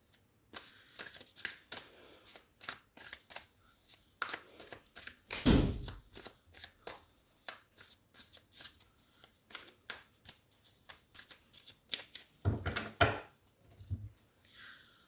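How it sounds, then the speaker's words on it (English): Tarot cards are shuffled repeatedly at close range, with quick riffling flutters and soft taps in a steady, irregular rhythm. "Let me shuffle your cards."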